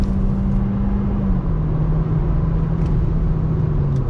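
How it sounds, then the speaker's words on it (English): A 2020 VW Jetta R-Line pulls away from a dead stop in automatic mode. Its engine gives a steady, loud rumble with a low tone that drops slightly, heard from inside the car with no talking. "I want to do a little acceleration from a dead stop, just leaving it in automatic mode on throttle"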